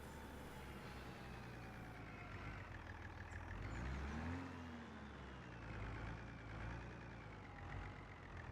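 Farming Simulator 25 engine noise: a low, steady vehicle engine drones continuously, its pitch rising and falling gently as it revs, fairly quiet and without talk.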